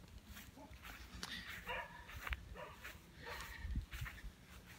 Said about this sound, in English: now I got dogs barking